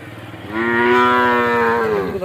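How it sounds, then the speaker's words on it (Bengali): A cow at a cattle farm lets out one long, loud, close moo that swells and holds for over a second before trailing off, with faint background noise and no talk. "মাশাআল্লাহ সুন্দর একটি গরু"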